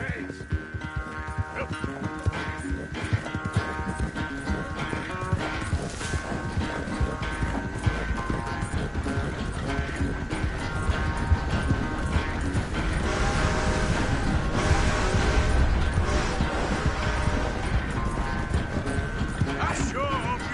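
Horse hooves clop steadily in the Red Dead Redemption 2 video game, a rhythmic galloping beat running throughout under speaking voices and game sounds.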